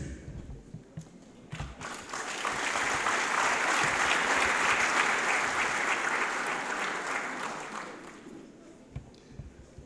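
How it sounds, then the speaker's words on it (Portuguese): An audience at a political party meeting breaks into applause for standing delegation members, swelling into sustained clapping that builds, holds for several seconds, then fades, with faint voices around it. "Como a plateia só viu o Dr. Bonavena, peço os outros membros da delegação também se ponham de pé para serem aplaudidos."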